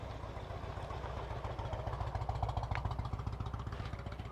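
Several motorcycles, including a KTM and a Kawasaki ZX-14, idle together before a group ride, making a steady low rumbling putter at moderate distance with a faint rise near the middle.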